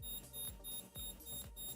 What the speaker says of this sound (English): if you hear beeping, that's my keys that tell me they need new batteries